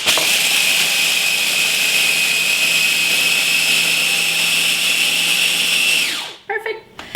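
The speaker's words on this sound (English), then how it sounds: "We use our little mini prep food processor." Small mini prep food processor grinding sunflower seeds and pepitas into meal, a loud steady high-pitched motor whine for about six seconds that then stops abruptly, followed by a few faint rattles.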